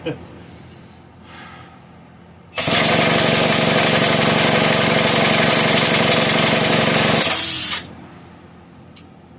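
A screw gun spins the engine of a Homelite 150 chainsaw in a loud, steady whirring and rattling burst lasting about five seconds, starting and stopping abruptly, with quieter handling noises and brief breathy sounds before and after.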